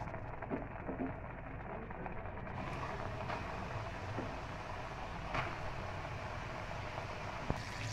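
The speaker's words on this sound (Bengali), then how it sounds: "তেলটা দিয়ে দিয়েছিলাম, এবার আমি চিকেনগুলো ভেজে নেব।" Flour-coated chicken pieces sizzle in hot oil, a steady dense crackle and hiss of frying that holds close and even throughout, brightening slightly partway as more pieces go in.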